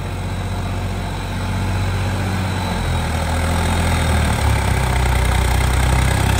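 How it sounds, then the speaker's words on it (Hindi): A power-upgraded John Deere 5310 tractor engine working hard under full load in soil, a loud, steady low diesel drone that continues unbroken throughout with no voices. "ट्रैक्टर पूरे लोड में आएगा"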